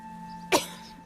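A single short cough bursts out close and clear against a quiet backdrop with a steady hum, in the video game What Remains of Edith Finch.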